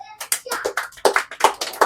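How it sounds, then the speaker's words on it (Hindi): Students in a village classroom clapping hands, several sharp, uneven claps in quick succession, close and loud, mixed with voices talking. "मारो ना ताली एक कस के"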